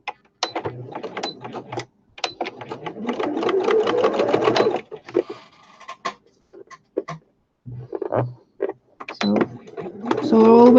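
A sewing machine stitches down the hem of fabric for a handmade flower basket, loud close whirring bursts starting and stopping, with a voice talking between runs.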